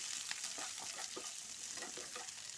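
Thinly sliced onions and curry leaves sauté in a pan for a yam masala fry, a soft steady sizzle with light stirring scrapes, close and quiet.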